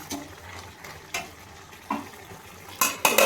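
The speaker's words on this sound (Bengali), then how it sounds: "এবার আমি 5 মিনিটের জন্য ঢাকাটা দিয়ে ঢেকে দেব" Metal lid set down over a pan of chicken being cooked for fried chicken biryani, with a few clinks and scrapes of cookware and a louder clatter near the end over a low sizzle.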